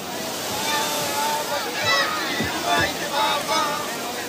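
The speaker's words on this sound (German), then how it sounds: "während sie mit ihren Nussschalen über die meterhohe Brandung setzen" Steady roar of ocean surf and breaking waves as small rowing boats cross a metre-high swell, with wind noise and a voice talking over the water throughout.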